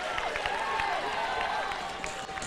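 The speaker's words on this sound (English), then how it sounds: "the crowd letting him know about it too behind the goals" Football crowd at the Adelaide City v Adelaide Comets grand final reacting behind the goals, a steady wash of murmuring, scattered claps and calls from the stands, with a commentator talking over it.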